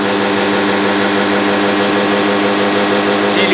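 A homemade motor built with 12 coils and 4.7K resistors spins up toward about 400 RPM, making a loud, steady whirring drone with a dense harmonic hum that holds level throughout.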